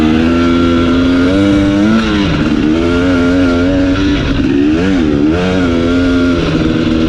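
A 2021 KTM 250 XC TPI two-stroke dirt bike engine drones loudly up close while ridden, its pitch rising and falling as the throttle opens and closes, with no voices.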